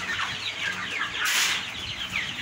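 Rooster clucking and murmuring nearby, a run of soft, throaty calls with a brief louder burst midway, heard alone with light background noise.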